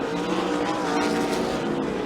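Sprint cars racing on a dirt track, engines roaring loud and continuous as the field passes close.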